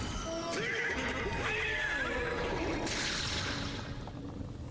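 Video-game horse neighing, a loud wavering whinny rising and falling over a few seconds, followed by softer game tones and a fading tail, with no talking over it.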